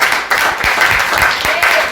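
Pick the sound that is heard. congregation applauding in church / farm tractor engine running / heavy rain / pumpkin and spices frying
congregation applauding in church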